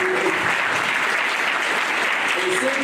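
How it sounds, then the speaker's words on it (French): A hall audience at a French-language event applauds steadily and loudly for online viewers, a dense wash of many hands clapping throughout, with faint voices mixed in. "Applaudissez fort pour eux."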